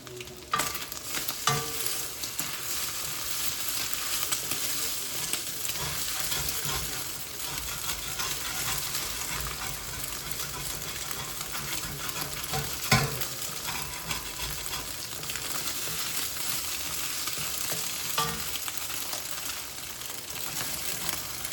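Leftover rice stir-fries in a pan, hissing with a dense, steady sizzle that runs throughout, broken by occasional scrapes and clinks of the stirring utensil, close and without speech.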